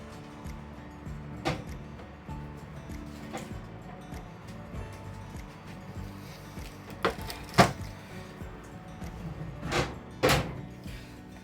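Baking trays of hot oil lifted out of a home oven, heard as scattered metallic clanks and knocks, with a few sharper bangs near the end, over a quiet kitchen background.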